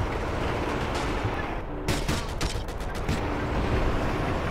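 Machine gun fire in the Battlefield Yugoslavia mod, a quick string of sharp shots over dense, noisy combat ambience, with no clear voices.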